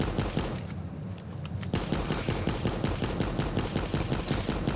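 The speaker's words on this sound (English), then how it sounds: "you're gonna shoot at one, and then quickly turn to the next one." Rapid AK rifle gunfire in a video game, loud repeated shots in quick bursts with a brief lull early on, then steady sharp cracks as targets are shot one after another.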